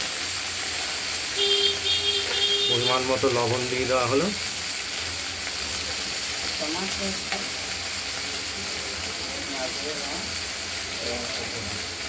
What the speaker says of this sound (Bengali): ঢ্যাঁড়সগুলোকে আমরা একটু ভাজা ভাজা করে নেব।